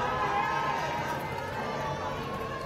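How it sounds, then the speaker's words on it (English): Crowd cheering at the 2019 UIAA Ice Climbing World Cup speed finals in Saas Fee, Switzerland, a steady broad roar of many voices that holds at a constant level for the whole stretch. "Big cheers from the crowd"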